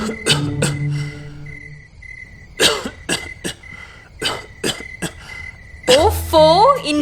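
An elderly man coughs at night in a Hindi household scene, several harsh, loud coughs in bursts with pauses, ending in a strained fit alongside a steady chirping of crickets in the background.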